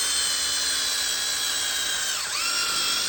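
Power drill whining steadily and loudly as an 1/8-inch bit pre-drills small pieces of wood, the pitch dipping briefly under load near the end before recovering.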